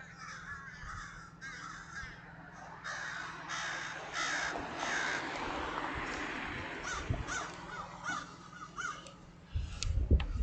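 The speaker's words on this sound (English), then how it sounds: "These are my crows" Crows caw repeatedly outdoors, the calls overlapping at moderate distance over a steady background hum.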